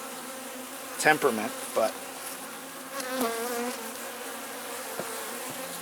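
Honeybees drone softly in the background around an opened, struggling hive while someone talks close by, with a few brief knocks in between.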